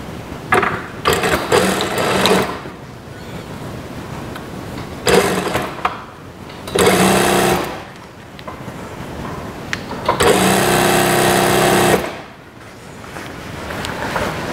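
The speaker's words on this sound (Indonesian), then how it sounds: "Dijahit dari sini ke sini sampai terus ke kaki satunya." A sewing machine stitches the crotch seam of a pair of shorts in several loud, close bursts of rapid whirring, separated by short pauses while the fabric is repositioned, with no talking.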